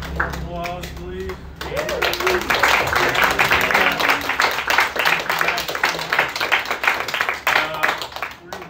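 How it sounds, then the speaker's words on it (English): A reading-series audience at a bookstore claps and applauds for several seconds after a poem, a dense, steady wash of handclaps close by, with scattered voices murmuring beneath. "Applause, please."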